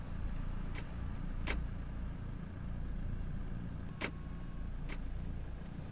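A black SUV turns left in the ARMA 3 video game, giving a steady, close engine rumble throughout with a few sharp clicks spaced over it and no talking.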